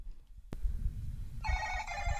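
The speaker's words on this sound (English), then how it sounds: "the ringtone is like, "Hello, Moto."" A Motorola phone plays its "Hello Moto" ringtone after a sharp click, a bright melodic tone starting partway through and continuing clearly over a low background hum.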